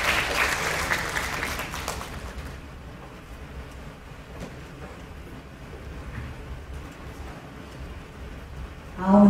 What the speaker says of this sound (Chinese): 请大家掌声欢迎